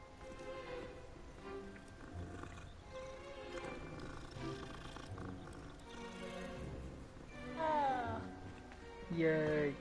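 A cat in the video game Hogwarts Legacy gives a couple of short meows near the end, over a bed of ambient game music and sound.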